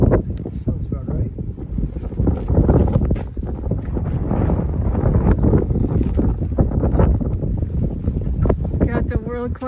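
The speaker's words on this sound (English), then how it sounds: "It's really windy." Wind blows hard across a snowy cross-country ski trail in fresh powder, a continuous heavy buffeting roar on the microphone that stays loud throughout, with people talking under it.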